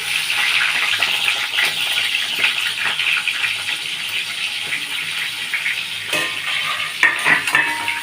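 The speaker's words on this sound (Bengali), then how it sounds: "বন্ধুরা সাদা তেলটা হয়ে গেছে কড়াইয়ে, আমি এই কাঁকরোলগুলো দিচ্ছি।" Pieces of spiny gourd dropped into hot white oil in a kadai make a continuous close sizzle, with clinks and scrapes of a utensil against the pan near the end and no talking.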